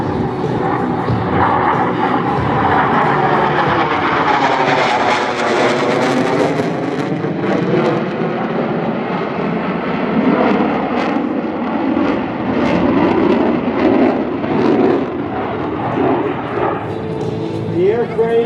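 An F-15 fighter jet roars overhead during its demo at the 2024 First State Airshow: a loud, continuous broadband jet rumble that swells and holds, with an announcer's voice running over it.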